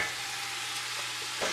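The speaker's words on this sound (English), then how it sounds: "get yourself a pack of ground beef and just dump it right in." Ground beef frying with carrots in a pot for beef and barley soup, a steady close hiss of sizzling fat with faint crackles, holding even throughout and swelling slightly at the end, no talk.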